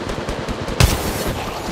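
Gunfire in a shooter video game: a single sharp, loud burst of shots cracks out about midway through a steady, busy game background.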